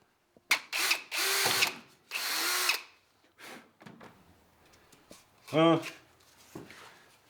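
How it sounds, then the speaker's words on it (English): Short bursts of a power drill whirring up and stopping, several times, with clicks and handling noises between them, drilling a hole in plastic while fitting a subtank to an 80 Series Toyota Land Cruiser. "it is pretty straightforward to drill there a hole"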